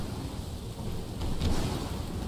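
Thunder rumbling in the vampire survival game V Rising, a low, steady roll of stormy noise with rain-like texture that swells briefly midway, with no talking.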